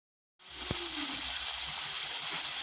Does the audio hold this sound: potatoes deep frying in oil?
yes